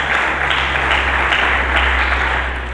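Church congregation applauding during a sermon, a loud, sustained roar of many hands clapping close up, steady throughout with a low hum underneath.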